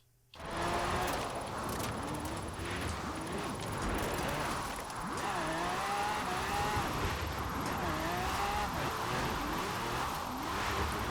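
A limo on drag tires drifting in Forza Horizon 4, engine revving and wavering steadily for several seconds with tire squeal rising and falling, loud and continuous.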